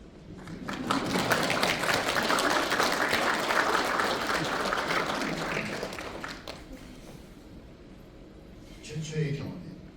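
Audience applause fills a Korean lecture hall during a talk on writing, a dense, loud clapping swell that rises quickly, holds for several seconds, then fades into quieter crowd murmur with a brief final burst.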